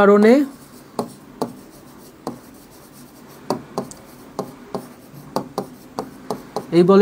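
Chalk or marker taps and scrapes across a board as a teacher writes notes during a physics class, with irregular strokes in quick bursts between a few short spoken words at the start and end.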